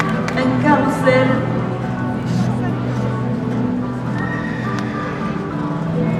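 Auvergne horses that just performed a carousel display neigh and whinny while their hooves clip-clop steadily on the ground, with a crowd murmuring and talking in the background.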